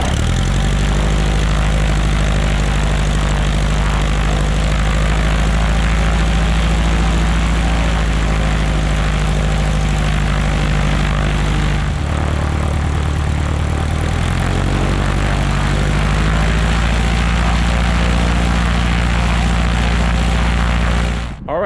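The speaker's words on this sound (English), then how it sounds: "I'm gonna start the engine properly in accordance with the checklist" A light aircraft's propeller engine runs steadily and loudly close by after starting, its deep droning hum holding even with a slight shift in pitch partway through, then cutting off abruptly at the end.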